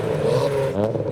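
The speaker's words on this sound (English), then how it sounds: "S15's revving as well and waving for the camera" A Nissan S15 revs its engine while creeping through a packed JDM show traffic queue, giving a short, close, throaty rise in engine tone with mechanical whir.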